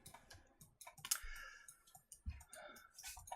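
A computer mouse clicks close and quiet, with a run of irregular sharp clicks over a few seconds in a quiet room and no talk.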